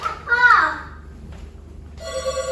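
A telephone in a riverside hotel room with a view of the Chao Phraya begins ringing with a steady electronic tone right after a person speaks.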